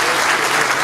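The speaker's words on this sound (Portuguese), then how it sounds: "eu gostaria de pedir uma salva de palmas para o menino que está fazendo" A short burst of dense crowd applause at a civic event, loud and continuous for under a second.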